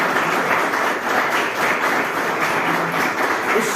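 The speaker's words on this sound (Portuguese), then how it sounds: "Você pode aplaudir a Deus por isso." A church congregation applauding during a sermon, steady sustained clapping from many hands, loud and even throughout with no voices over it.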